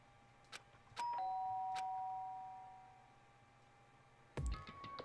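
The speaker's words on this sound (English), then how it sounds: "did I hear the doorbell?" A doorbell in the video game Danganronpa: Trigger Happy Havoc gives a soft chime that rings out and fades over a quiet background, followed by a later sharp tone.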